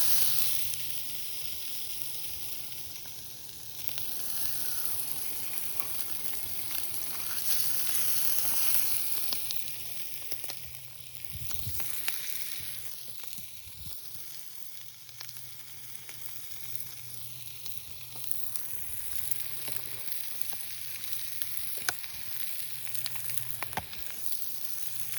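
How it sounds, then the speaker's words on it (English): Fish frying in a pan over a campfire at a northern Ontario campsite, a steady close sizzle with crackle running throughout, faint murmurs in the background. "Our fish is nearly cooked."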